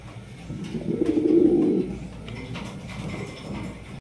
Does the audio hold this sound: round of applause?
no